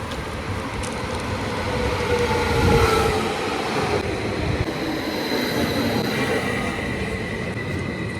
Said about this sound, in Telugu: సో మనం ఈ ట్రైనే ఎక్కబోతున్నాం ఇప్పుడు.